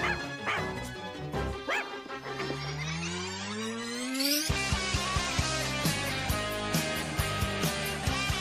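A dog barks and yips repeatedly in a comedic film scene about killer clowns from outer space, with music and rising sound effects around it, followed by a steady run of rhythmic barks.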